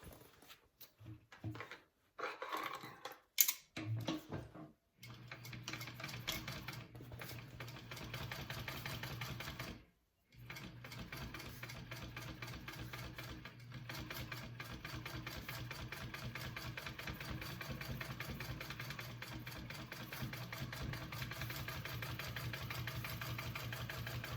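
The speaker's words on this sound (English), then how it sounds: "I'm going to do another row of stitching just like I did along the top." A sewing machine stitching a row on a bucket bag: a steady mechanical whir running for most of the time, with a few brief stops and starts early on, close and unaccompanied by talk.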